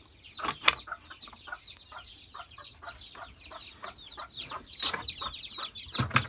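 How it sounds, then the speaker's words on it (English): Chicks let out of a chicken coop in the morning give repeated high chirps and soft clucks, with scattered rustling and a few louder bursts, close and fairly quiet. "Let's just let out the chicks."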